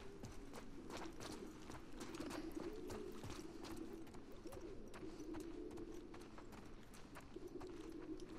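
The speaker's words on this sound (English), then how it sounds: "Sounds like pigeons." Pigeons coo in a low, repeated murmur in The Last of Us Part II, over a steady ambient bed broken by scattered soft taps and steps.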